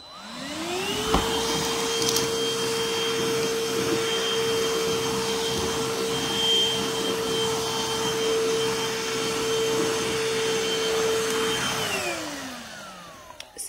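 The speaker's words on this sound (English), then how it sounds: "So it does an excellent job on vacuuming up on different surfaces." A BISSELL Pet Hair Eraser lithium-ion hand vacuum switches on with a rising whine, runs at a steady, fairly loud motor hum for about ten seconds, then winds down.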